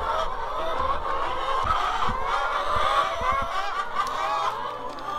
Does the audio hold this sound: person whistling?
no